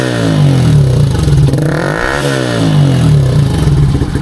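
A Bajaj Rouser NS 125 fitted with an Akrapovic exhaust and silencer revs loudly and close up, its engine note swelling and dipping in a steady sustained roar with no talking.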